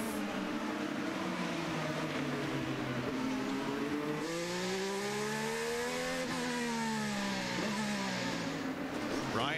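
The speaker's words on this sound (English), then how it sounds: "And here comes Ryan Hunter-Reay back in the race." IndyCar race cars at the 2012 Long Beach street race, with a steady loud engine drone and rising and falling harmonic whines as cars accelerate and pass, continuous for about ten seconds with no talk.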